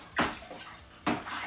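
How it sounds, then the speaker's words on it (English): Blackcurrant wine stirred with a spoon, two quick sloshing swirls of liquid about a second apart, close and fairly soft, with no talk. "And give it a good stirring."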